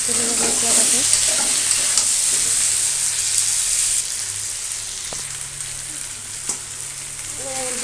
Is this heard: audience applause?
no